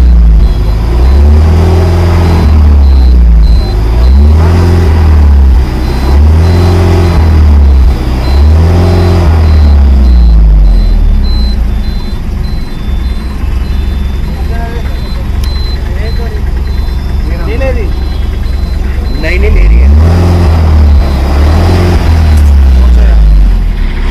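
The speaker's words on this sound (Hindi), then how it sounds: "ये देख सकते हैं बार बार स्टार्ट करी जा रही है यहाँ बस, एक्सीलेटर दिया जा रहा है यहाँ पे" Tata Marcopolo Starbus CNG BS6 bus engine close by at a CNG fitment centre, a loud low diesel-like rumble revved in repeated throttle surges, dropping to idle, then revving again, with talk heard over it.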